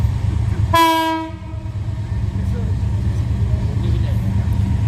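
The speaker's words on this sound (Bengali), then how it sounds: "জামালপুর এক্সপ্রেস।" The Jamalpur Express rumbles past on the line toward Sarishabari and sounds a loud, brief horn blast, with heavy low train noise and clatter continuing throughout.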